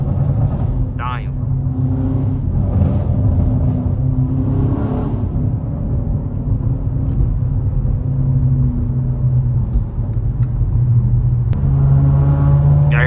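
A BMW G99 M5 fitted with downpipes cruises with a steady, loud exhaust drone and rasp that holds throughout, while someone talks over it from inside the cabin.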